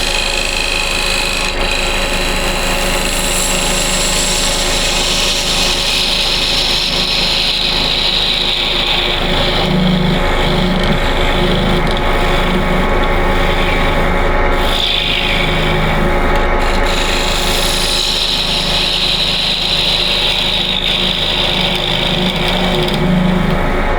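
A wooden bagpipe chanter turning on a high-speed lathe, with a steady whirring hum and a bright hiss of the cutting tool drawing thin shavings, continuous and close throughout with no talk.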